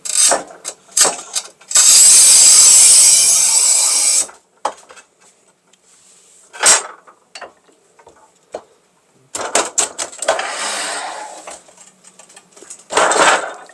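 A Shijing 3025 tile cutter working on 10 mm matte black porcelain stoneware tile: loud bursts of grinding and scraping, one long continuous cutting pass followed by shorter rasping strokes and clicks with quiet gaps between.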